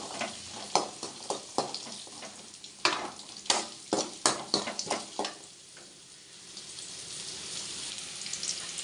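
Small onions frying in a pan for a country chicken curry, turning golden: a steady sizzle under repeated scraping stirs that cluster in the middle, then settle into a softer hiss. No one speaks.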